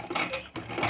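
A sewing machine stitches fabric pieces together, a quiet, brief stretch of rapid mechanical whirring and ticking with a short pause midway.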